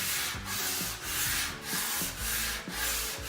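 Wood furniture being refinished by hand sanding: rhythmic back-and-forth strokes of sandpaper on wood, about six rasping passes at a steady pace, close and alone.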